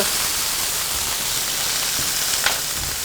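Tuna steak searing in a hot pan gives a steady, close, loud sizzle with a faint pop near the end; no voices.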